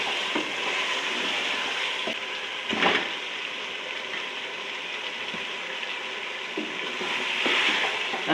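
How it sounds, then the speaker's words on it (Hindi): Paya trotters stirred into fried masala, a soft continuous sizzle with occasional scraping and clatter from the stirring, a few louder scrapes standing out close by. "अब इसमें मैं डाल देती हूँ पाए, साथ इनको मिक्स भी कर दी जाती है।"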